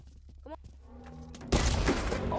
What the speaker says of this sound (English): how did a shotgun get shot?